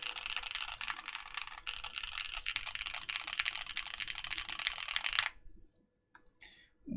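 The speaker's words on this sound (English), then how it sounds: "What a great sounding keyboard." Rapid typing on a custom mechanical keyboard, dense clacky keystrokes close and loud for about five seconds, then stopping abruptly, with a last few isolated clicks.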